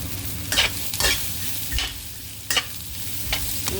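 Onions and beans fry in oil in a pan, with a steady sizzle under repeated louder scraping bursts as the pan is stirred.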